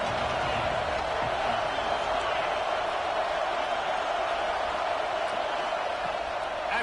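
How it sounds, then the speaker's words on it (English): Steady, dense roar of a stadium crowd at a football game, loud and continuous throughout with no breaks, as the crowd tries to disrupt the offense. "This crowd trying to make life miserable for this offense"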